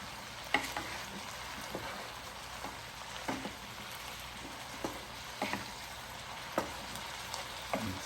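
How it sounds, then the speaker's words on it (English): Seasoned vegetables being stirred for a casserole in a Power XL cooker: soft scraping and stirring strokes recur every second or so over a low, steady sizzle, close and moderately quiet, with no voices. "I'm gonna mix that up"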